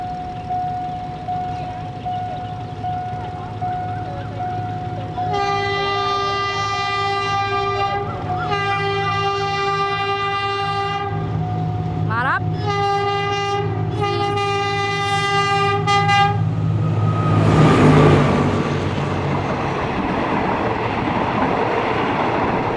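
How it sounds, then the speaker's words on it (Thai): A train passes a rural railway crossing in Thailand, its horn blaring in several long and short blasts over a steady rumble, then fading into rolling wheel noise. "รถไฟมานะครับ"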